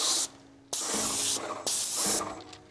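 Graco Magnum airless paint sprayer spraying a garage door, giving three sharp bursts of loud, hissing spray separated by brief pauses when the trigger is released.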